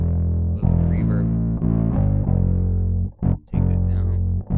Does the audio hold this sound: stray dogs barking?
no